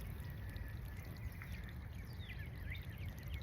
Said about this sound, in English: the water is flowing